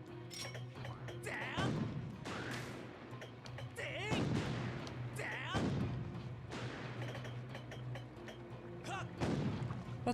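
Enemy gunfire in The Legend of Zelda: Skyward Sword HD, in a sandy setting, a string of sharp cracking shots and thuds repeating every second or so, steady and moderately close over a low background hum.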